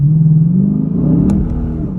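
2022 Lexus RC F V8 engine blipping on a downshift, a loud, close rev that swells and drops back to a deep burble, heard alone.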